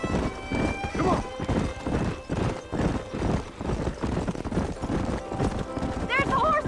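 Herd of horses in the western video game Red Dead Redemption gallop past, dense clip-clop hoofbeats with whinnies rising near the end, while voices shout over the running herd.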